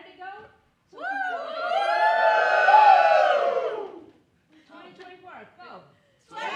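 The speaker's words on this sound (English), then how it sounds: "And then we'll do a cheer, right?" A group of graduates cheers together at an international education graduation, one loud sustained whooping shout rising and fading over a few seconds, followed by scattered voices talking.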